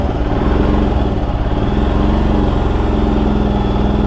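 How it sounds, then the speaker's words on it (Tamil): Motorcycle engine in cold mountain weather near Zojila Pass, running with a steady, close, throbbing putter that stays even for the whole stretch, with no talk. "ரொம்ப கோல்டாக இருக்குல்ல, ஸ்டார்ட் ஆக மாட்டேங்குது வண்டி."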